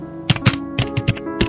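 Forceful keystrokes on a computer keyboard, about seven sharp separate taps in quick uneven rhythm, close and loud over a low hum.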